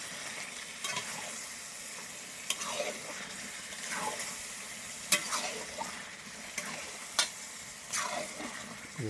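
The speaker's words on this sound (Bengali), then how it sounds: "চিকেনটা একটু আমি নেড়ে দিচ্ছি।" Chicken frying in a pan for a braised meat dish, stirred now and then, giving soft scraping strokes over a steady close sizzle, with no talk.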